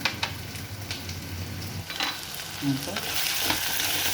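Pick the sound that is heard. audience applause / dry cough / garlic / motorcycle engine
garlic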